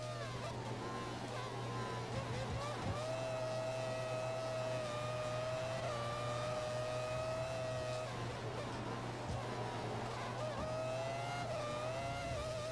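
A race car engine screams at full revs in the F1 2014 video game, a continuous high-pitched whine with gear shifts and pitch sweeps, steady and loud throughout.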